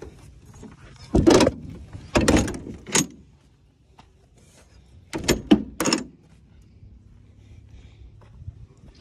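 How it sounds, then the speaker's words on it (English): Door of an enclosed 6x12 trailer being swung shut and latched: several loud metallic clunks and rattles in two separate bursts, close by, with quiet gaps between. "Door closes up."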